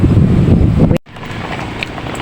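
Loud wind buffets the microphone in rough gusts, cutting out abruptly for a moment before the blustery rush returns.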